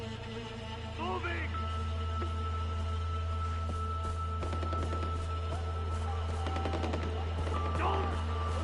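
Sustained gunfire rattles through a firefight in the video game Far Cry 4, steady bursts layered over a low constant rumble, with the shots close and fairly dense and brief game sounds rising above them.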